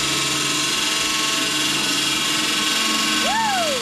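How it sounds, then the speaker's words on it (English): An Allett Stirling 51 cylinder lawn mower cuts a lawn on its first mow in three weeks, its reel blades scraping against the bottom blade. It makes a loud, steady whirring drone throughout, with a brief rising and falling whine near the end. "The blades were really contacting with the bottom blade, hence the noise."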